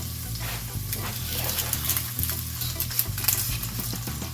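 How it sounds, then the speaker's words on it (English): Tomato paste sizzles and spits in a pot for a Haitian-style smothered turkey, a steady close frying hiss with stirring scrapes and low rhythmic bumping underneath, no voices present. "I just want to cook my my tomato paste here"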